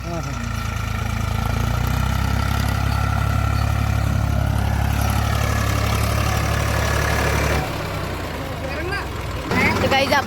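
A new Ford 3600 tractor engine runs at a steady idle, a loud low rumble that holds for most of the stretch before dropping briefly near the end, with people talking over it.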